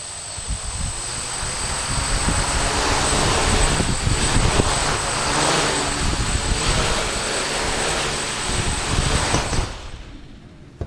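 A DJI quadcopter drone hovers close to the ground in ground effect, a loud, steady, near buzzing whine of its propellers that cuts off at the end.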